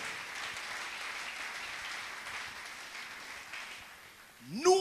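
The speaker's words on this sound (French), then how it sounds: "Acclamons très fort le Seigneur." A church congregation applauds loudly and steadily during a sermon. The crowd's clapping fills the hall for several seconds, fades a little, and then a voice cuts in at the end.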